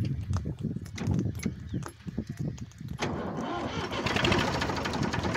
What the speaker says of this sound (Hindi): और स्टार्ट करके देखते हैं मेशी 35 की आवाज़ सुनेंगे।